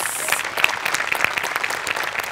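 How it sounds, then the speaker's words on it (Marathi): A comedy show audience in a studio claps loudly and continuously, bursts of hand claps overlapping densely from start to finish. "प्रत्यक्ष नसलेल्या माणसांसाठी पण एकदा टाळ्या वाजल्या पाहिजे"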